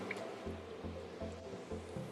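Coconut milk being stirred into a vegan cream of mushroom soup in a pot, giving soft wet squishing and sloshing strokes in a steady rhythm, close and fairly quiet, with no talk.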